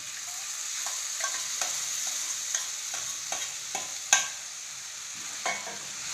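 Moong dal sizzles quietly in a pan of tempering while a spoon stirs and scrapes, giving a few soft, irregular knocks.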